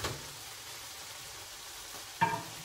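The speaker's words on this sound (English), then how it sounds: "Got my chicken cooking over here." Chicken frying in a pan gives a faint, steady sizzle. A single sharp clack near the end briefly stands out above it.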